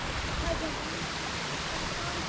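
A waterfall at a secret hidden spot runs a little higher after rain the night before, giving a steady, dense rush of falling water that stays even and close throughout.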